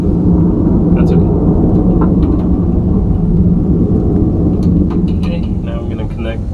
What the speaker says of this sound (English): There's a jet flying around, so you may not be able to hear me.